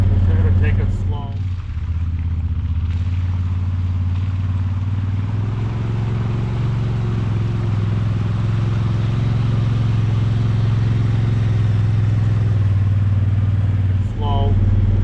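A Honda Talon side-by-side idling and creeping slowly through a shallow flooded creek, its engine a steady low drone with someone talking over it.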